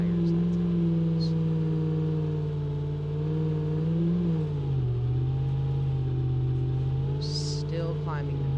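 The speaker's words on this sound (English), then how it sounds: "Spin those off-road tires." Off-road vehicle in the BeamNG Drive game on an off-road island, its engine droning and revving steadily with a pitch dip midway, tires spinning, loud and continuous, with a brief higher whine near the end.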